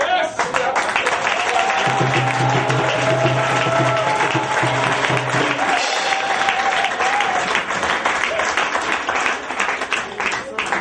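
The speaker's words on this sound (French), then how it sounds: "Ne te retiens pas, acclame Dieu." A church congregation applauding and cheering during a service, dense sustained clapping and crowd noise with voices and sung or shouted tones mixed in, filling the room for the whole stretch.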